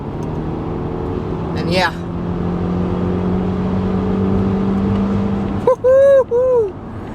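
A 2018 Volvo V90 T8 Inscription plug-in hybrid with 407 horsepower accelerates at full throttle, a rising engine drone that sweeps up in pitch before loud whooping vocal exclamations near the end.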